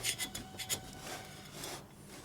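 A carbide scraper rasps gasket material off the metal surface of a 1972 Harley FLH 98ci shovelhead stroker motor, giving short, close scraping strokes in an irregular rhythm, a few sharper at the start, then a steadier rubbing drag.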